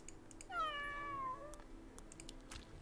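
A single drawn-out cat meow rings out as a sound effect in the strategy game Legion TD 2. It is clear and fairly close, with faint keyboard clicks ticking in the background.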